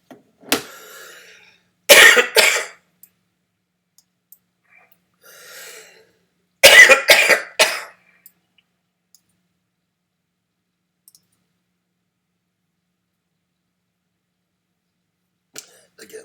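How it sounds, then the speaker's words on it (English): Several bursts of coughing separated by quiet pauses, with two loud clusters of sharp coughs close to the microphone and a few fainter ones between. "Again, sorry about the coughing."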